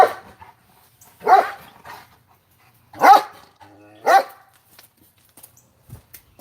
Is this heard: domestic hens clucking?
no